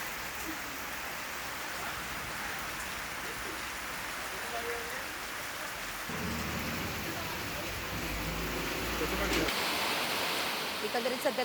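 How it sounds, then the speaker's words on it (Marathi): Steady rain falls across the Vaibhavwadi, Kankavli and Kudal areas of Ratnagiri as a continuous broadband hiss, with a low rumble that swells midway and then fades. "आज पहाटेपासून वैभववाडी, कणकवली, कुडाळ तालुक्याच्या काही भागात पावसाची रिपरिप बघायला मिळाली आहे"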